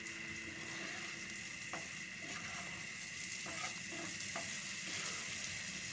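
Pointed gourd peel fries in a pan, giving a faint steady sizzle with occasional soft stirring clinks, heard alone without speech.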